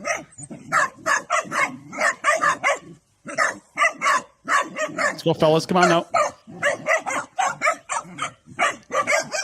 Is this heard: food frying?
no